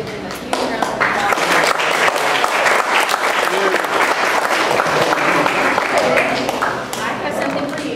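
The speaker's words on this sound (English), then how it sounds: "So I just want to give them a huge round of applause." Audience at a Tesla owners club annual meeting breaks into sustained applause for a couple, a dense, steady wash of many hands clapping at once, fairly loud and close, fading slightly at the end.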